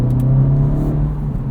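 A 2023 Acura Integra with a 1.5-litre turbo and manual gearbox pulls away from low revs. A steady, loud engine drone holds a strong low hum with a rough rumble beneath it, tapering slightly near the end.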